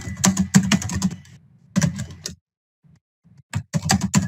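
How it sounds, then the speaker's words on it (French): Computer keyboard typing, close and clear, with bursts of rapid key clicks separated by brief pauses and a short silence before typing resumes. "On entend votre clavier."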